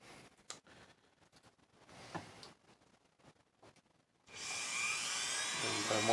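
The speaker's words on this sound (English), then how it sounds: "I'm going to use a Dremel tool with the cutter bit, or a cutting disc" A Dremel rotary tool with a cutting disc starts up and grinds steadily into a steel knife tang with a high, whining buzz. Quieter handling clicks and faint speech come before it.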